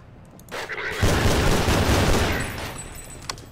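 A gun blasting in a modded Half-Life 2 game, a loud burst of heavy gunfire that booms for about two seconds, then fades, followed by a single sharp shot near the end.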